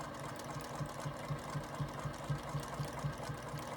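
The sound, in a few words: sewing machine stitching edges down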